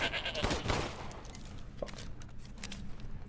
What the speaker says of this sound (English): It's just a goat.